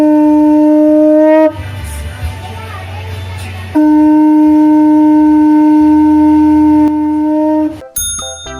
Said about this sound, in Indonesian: Fu adalah alat musik tradisional tiup dari Maluku Utara yang terbuat dari kulit kerang besar atau bia.